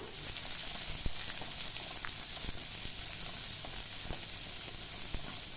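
Onions, cumin, garlic and green chilies sautéing together in a pan for a greens and potato lunch, giving a steady, fairly quiet sizzle and hiss with a few small pops and crackles scattered throughout.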